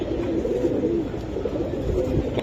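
Large Giribaz racing pigeons give low, rolling coos, steady and close over constant background noise.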